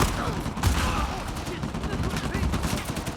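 Rapid turret gunfire in Uncharted: The Lost Legacy rattles continuously for a few seconds, a dense burst of shots with heavy low thumps under it and no speech over it.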